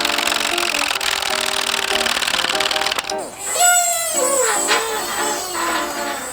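A hand-pumped press works on RX7 control arm bushings with a 22mm socket, a loud steady mechanical buzz for about three seconds, then a squealing, creaking stretch with fainter background sounds as the bushings give.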